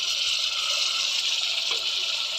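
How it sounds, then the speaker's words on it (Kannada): Strained rice tipped into a cooking pot for simal palav, a steady watery pour and trickle running throughout at close range, with no voices over it. "ಇಲ್ಲಿ ಅಕ್ಕಿನ ಸೋಸಿ ಹಾಕಾಕೊಂತೀನಿ ರೀ."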